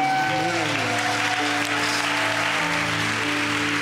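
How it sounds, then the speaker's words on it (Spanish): Church congregation applauding during a Spanish-language service, steady clapping throughout with sustained organ or keyboard tones and voices underneath. "Ese aplauso es para Dios"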